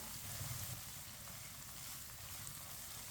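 Semolina roasting in a pan for suji halwa, stirred with a spoon: a steady soft frying hiss with faint scraping, continuous and close, no voices.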